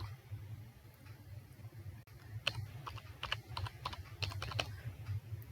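Typing on a computer keyboard while writing SQL insert queries, a quick run of clicky keystrokes, sparse at first and then denser, over a low steady hum.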